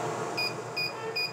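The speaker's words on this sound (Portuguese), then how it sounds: "Então ele tá bipando." A SWIPOWER 1500W power inverter beeping on overload, three short, evenly spaced high-pitched beeps over a steady electrical hum.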